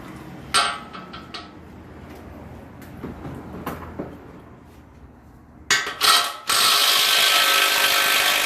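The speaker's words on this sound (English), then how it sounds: "Take the nut in the back off." A ratchet clicks rapidly in short bursts while loosening the pinion nut on a GM 10-bolt Camaro rear end, ending with a louder sustained metallic whir.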